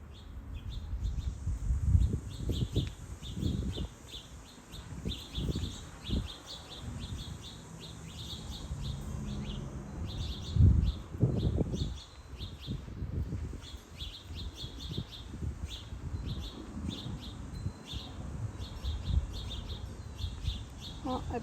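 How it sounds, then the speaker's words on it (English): Small birds chirp and tweet outdoors on a hot, sunny day, giving a steady stream of high, rapid calls throughout, with low rumbling handling or wind noise and occasional background sounds. "I just thought maybe you guys would want to see the birds"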